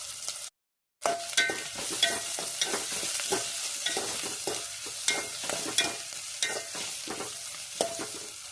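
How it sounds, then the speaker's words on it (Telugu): Onions frying in a pan for chicken curry, cooked until browned, a continuous sizzle with repeated stirring scrapes and clinks after a brief gap at the start, no voices. "ఉల్లిగడ్డలు జర బాగానే వేయించుకోవాలి."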